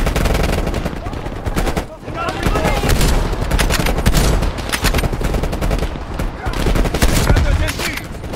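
Heavy, continuous gunfire from Call of Duty Black Ops Cold War rattles in close, loud automatic bursts that barely pause, with game effects layered throughout.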